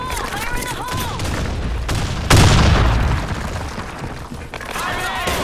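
A grenade goes off in the shooter game BlackShot, a loud sudden blast a little past the midpoint that rolls off into a rumbling tail, with gunfire and game effects around it.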